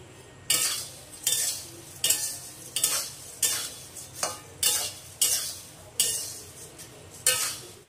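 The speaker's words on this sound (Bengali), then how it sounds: "দিয়ে ভালো করে ভাজছি এটাকে" Puffed rice, flattened rice and chillies are dry-fried together in a pan, with rhythmic, loud scraping stirs about once a second over a soft, continuous crackle.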